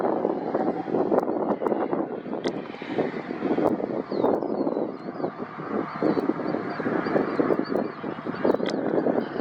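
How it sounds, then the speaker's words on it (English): Air Force 2, a C-40 jet, passes overhead as a broad, steady roar of engine noise mixed with wind buffeting the microphone at a windy airport, sustained throughout at moderate loudness. "Should be Air Force 2 overhead. Kamala Harris on her way to Iowa with a C-40 today."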